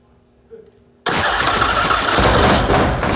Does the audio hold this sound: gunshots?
no